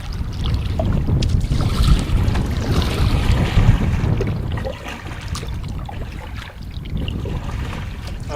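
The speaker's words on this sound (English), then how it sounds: "Paddling's a bit tedious in this wind." Strong wind roars steadily over an open canoe as it is paddled up a wilderness creek. A loud, continuous buffeting rumble dominates throughout and eases a little toward the end, with no voices.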